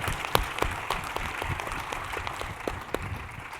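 A conference audience applauds a corporate sustainability panel with a steady patter of many hands clapping, moderately loud and sustained throughout, with no voices over it.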